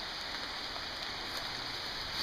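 Steady rain falling during a storm, a dense continuous hiss of drops on surfaces, even and moderately loud throughout with no voices.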